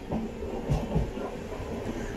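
A 20691 Antyodaya Express running on rails while approaching Maniyaji Junction on the Trichy to Nagercoil line: a steady, close rumble of carriages with a few louder jolts, heard from inside an unreserved coach.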